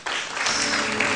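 Audience applause in a lecture on the history of Karabakh khanates, a brief dense burst of clapping that starts abruptly and holds steady.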